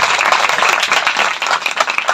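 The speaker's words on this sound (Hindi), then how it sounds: "बहुत कम तालियां, बहुत कम।" A congregation at a church service claps together in a dense, steady round of applause that stays loud throughout, with brief flutters of individual claps and no voices over it.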